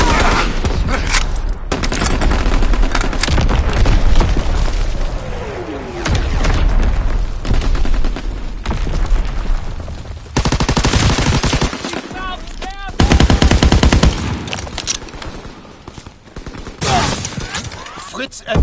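Call of Duty WWII battle: heavy artillery booms and dense bursts of rifle and machine-gun fire, loud and close, with explosions rolling in waves, voices speaking over the combat at times.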